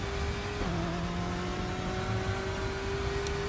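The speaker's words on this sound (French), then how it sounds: "Le moteur fait un beau bruit et il casse pas la tête" A BMW M8 GTE race car engine in the RaceRoom racing game holds a loud, steady drone, drops pitch sharply after a gear change, then climbs again as it revs, continuous throughout with no talk.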